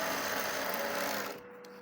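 A sewing machine runs fast and steady while stitching a kurti seam, a close whirring hum that cuts off after about a second and a half, leaving faint room noise.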